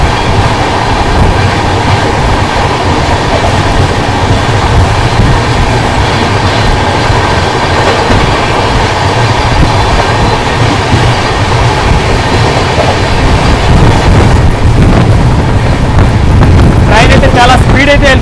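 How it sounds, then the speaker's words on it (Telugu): A train passes at speed through Vellore Cantonment, a loud, continuous rumble with rail clatter and heavy wind buffeting the microphone throughout. "ఇంకో ట్రైన్ అయితే వస్తా ఉన్నది చూడండి"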